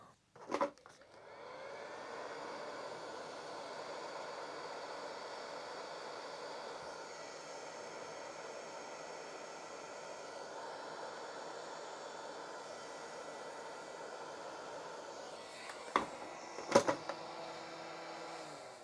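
A heat gun blows steadily while shrinking heat shrink tubing on wiring for an NES frontloader mod, an even whirring drone for most of the clip, with short clicks at the start and end.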